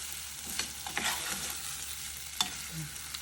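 Pork sizzling in hot oil in a pot, a steady close fry with a few clinks and scrapes of stirring on top, no voices.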